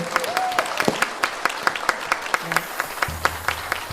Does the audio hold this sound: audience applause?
yes